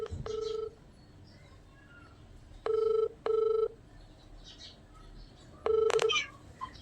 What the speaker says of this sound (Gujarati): સાંભળજો મિત્રો રિંગ જાય છે